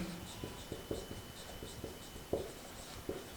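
Chalk or marker tapping and scraping across a board while working a prism refraction physics problem: a series of short, uneven strokes and taps, close and moderately loud, with no voices.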